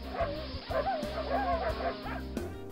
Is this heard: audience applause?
no